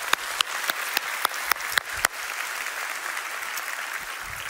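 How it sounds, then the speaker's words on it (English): Church congregation applauding during a service, starting with several sharp, separate claps at a steady pace that swell into a continuous, moderate round of applause. "Let's give a bigger hand for the cheer in heaven."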